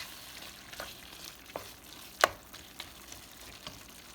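Ground beef seasoned with cumin frying in a pan for burritos, a gentle continuous sizzle broken by a few scattered stirring clicks, one sharper knock near the middle, no talking.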